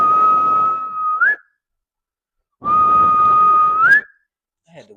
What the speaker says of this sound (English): I had to whistle on that.